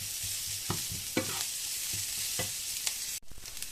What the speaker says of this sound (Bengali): তো গাজরটাকে আমরা ফ্রাই করে নিই